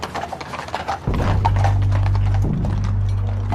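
Hooves of a six-horse hitch pulling a military funeral wagon clip-clop in a steady, close rhythm over pavement, with a low rumbling hum underneath.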